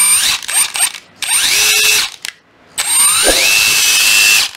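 A Hitachi cordless screwdriver on a 5A battery pack whirs in bursts, its motor pitch rising and falling as the trigger is squeezed and released, with brief pauses between runs, loud and close with no talking.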